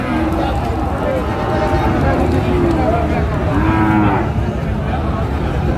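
Several cattle moo repeatedly at a Dhaka livestock market where Sahiwal bulls are sold, long low calls rising over a steady crowd murmur with people talking throughout.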